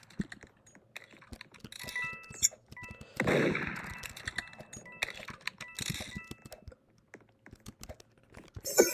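Gunshots in the Roblox game Murder Mystery 2, sharp short bursts scattered among rapid keyboard typing and clicking, with a louder burst partway through, close and busy throughout.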